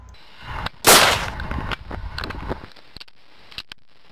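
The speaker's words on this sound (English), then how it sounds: "now you guys just learned how to make a cool little gunshot off the easiest program ever" A single sharp, loud gunshot sound effect bursts out near the start, followed by a decaying rumble and a few faint clicks, with no talking.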